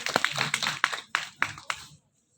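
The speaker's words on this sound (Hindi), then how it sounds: "भाई तालियां हो जाएं।" Short burst of audience clapping during a musical Hindu wedding-vows ceremony, a handful of sharp claps in loose rhythm that stop abruptly, close and moderately loud.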